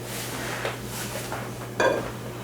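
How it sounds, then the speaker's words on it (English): Whisk folding whipped cream in a bowl, soft repeated swishing strokes with light scraping against the bowl and one sharper clink near the end, close and without talk. "That's why I'm using a whisk instead of the scraper."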